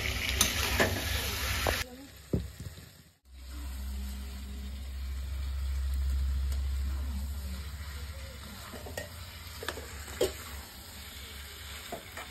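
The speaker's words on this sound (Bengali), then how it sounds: "আবার নিচে উপরে করে সবজিটা মাংসটা নাড়াচাড়া" Vegetables and meat with bay leaf being stirred and turned in a cooking pan, a steady sizzle with scraping stir sounds and a low background hum, nobody talking.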